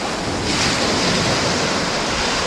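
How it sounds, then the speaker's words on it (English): Ocean waves swirl around a rock on a beach at dawn, a loud, continuous wash of surf with wind noise buffeting the microphone throughout. "hopefully catching the waves swirling around it"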